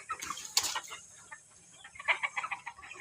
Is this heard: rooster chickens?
yes